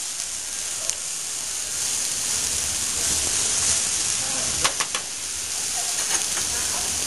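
Steak and mushrooms browning in a hot frying pan, producing a steady close sizzle and hiss with a few faint crackles and light clicks throughout.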